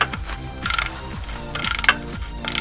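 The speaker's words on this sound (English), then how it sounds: "Sometimes you kind of have to hold the socket a little bit so it tightens up" A socket wrench ratchets as it tightens the oil drain plug on a 2004 Honda Odyssey, giving quick repeated clicking strokes, close and fairly loud, with brief pauses between pulls.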